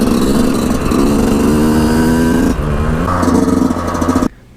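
A Yamaha YZ125 two-stroke dirt bike with a YZ125X CDI box revs up from low RPM. Its loud buzzing engine rises in pitch, dips briefly, climbs again, then cuts off sharply.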